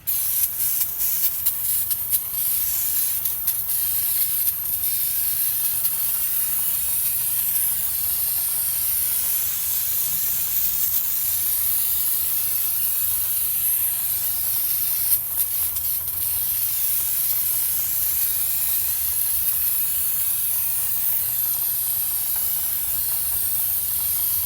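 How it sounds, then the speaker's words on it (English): Aerosol can of brake cleaner spraying onto rear brake parts, a long, loud, steady hiss sustained close up with faint clinks and shuffling underneath. "Let's get that brake cleaner happening."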